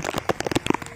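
Monsoon rain falling during a trek at Korigad Fort, heard as close, irregular drops and patters spattering on nearby surfaces in a short, fairly loud burst with no talking.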